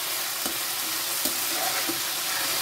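Onions frying in a pan for paneer do pyaza, a dense steady sizzle with a few soft stirring scrapes, no voices.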